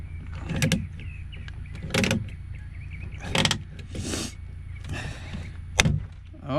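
A hand rivet tool squeezed to rivet a door handle on an old Chevy/GMC pickup truck door, giving several separate sharp metallic clicks and clunks spaced a second or so apart.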